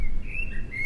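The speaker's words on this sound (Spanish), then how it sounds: "voy a buscar mi grabadora de cassettes que cuidaba con tanto celo para grabar aquel Mirlo Negro" A common blackbird sings on a cold early morning, giving a few fluty, sliding whistled notes close by over a steady low background rumble.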